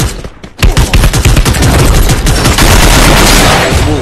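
Rapid, loud bursts of automatic gunfire from the battle-royale video game Free Fire, a dense rattling barrage that starts abruptly and continues to the end.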